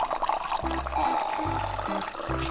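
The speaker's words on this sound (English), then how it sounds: "how much do you have to pour in, Raiyah?" Liquid glue or activator being poured into a bowl for homemade slime, a steady close trickle running under low rhythmic thumping in the background.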